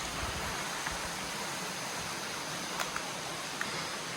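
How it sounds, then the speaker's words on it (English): A waterfall rushes in a broad, steady wash of noise outdoors. Faint small ticks and clicks surface briefly over the constant roar. "Waterfall!"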